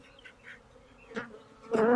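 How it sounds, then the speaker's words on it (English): Honey bees from a shipped package buzz softly in a low, steady hum, swelling into a louder, closer burst at the end. "a package of bees like this"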